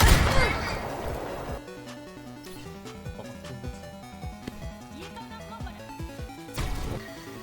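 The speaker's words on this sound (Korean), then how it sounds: "평타가 되게 약간 뿅뿅뿅 하고 나가는 느낌?" Primary-fire shots from the Le Sserafim collaboration skin in Overwatch, a series of sharp, poppy bursts spaced out over layered tonal game sounds, loudest at the start and near the end.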